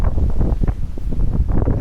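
Cold gusty wind buffets a camera microphone outdoors in low, fluttering rumbles that pulse unevenly and loudly throughout.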